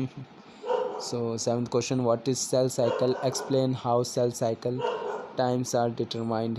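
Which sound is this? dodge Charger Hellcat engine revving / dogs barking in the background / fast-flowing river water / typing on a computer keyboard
dogs barking in the background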